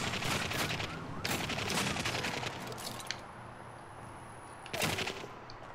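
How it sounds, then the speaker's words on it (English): Gunfire in the video game The Darkness, with bursts of rapid shooting that come and go, fairly loud and without speech. "Who's shooting at me?"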